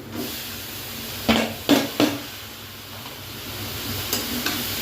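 Raw banana flower drops into a hot pan with oil and a little cumin powder, giving a steady sizzle broken by a few sharp clatters and stirring scrapes.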